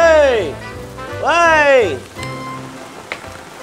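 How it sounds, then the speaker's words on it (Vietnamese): Heavy rain pours down as a steady wash of noise, partly masked by loud, drawn-out vocal calls from a person nearby. "Trời ơi mưa quá, dậy đi bà con ơi."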